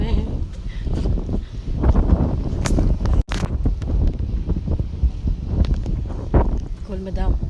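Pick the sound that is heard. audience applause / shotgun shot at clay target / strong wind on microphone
strong wind on microphone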